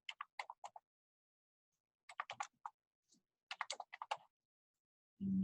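Typing on a computer keyboard during a tax preparation lecture: three separate bursts of quick, crisp key clicks with short pauses between them, close and clear, ending in a brief low thump.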